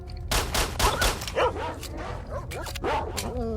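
Dog barks from S.T.A.L.K.E.R.: Shadow of Chernobyl gameplay, a run of several loud, close barks and yips in quick succession over a dense background of game noise.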